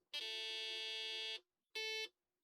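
Two electronic beeps from a broken Brazilian Apple II clone running a dead test ROM: a long steady harmonic-rich tone of about a second, a short pause, then a shorter identical beep, loud and clear with nothing else audible.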